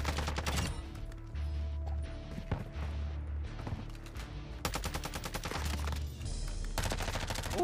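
Rapid bursts of automatic gunfire and single shots in a Call of Duty Warzone match on Ashika Island, loud and close, repeating in clusters over a low rumbling game soundscape with brief muffled pauses between volleys.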